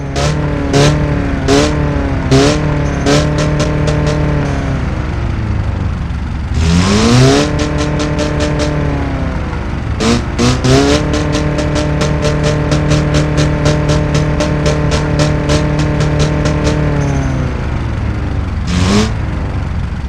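A small car engine in BeamNG.drive revs repeatedly through the rev range, with rhythmic rises and drops, rapid limiter-like bursts and a couple of brief pauses, loud and close throughout with no speech.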